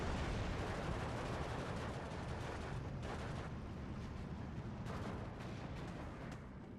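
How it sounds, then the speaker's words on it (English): Bombs from Baltimore bombers pound the ground in the Steel Division 2 war game, a sustained roar of heavy blasts and rumbling fire with sharper impacts landing around the middle, dense and distant-sounding with no talk. "Baltimore bombs come in."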